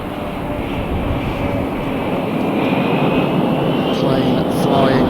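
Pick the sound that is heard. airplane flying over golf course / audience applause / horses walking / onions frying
airplane flying over golf course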